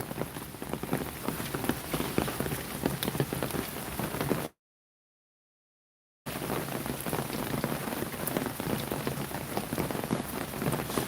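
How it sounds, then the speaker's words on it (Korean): Steady rain patters hard on surfaces outdoors as a dense, constant hiss. It stops briefly in a short gap, then returns just as strong, with no talking. "내려오니까 빗소리가 좀 잦아들었습니다."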